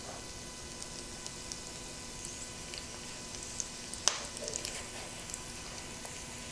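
Corn fritters frying in a pan of hot oil give a faint, steady sizzle with small ticks and pops, plus one sharper clatter as a fritter is turned over.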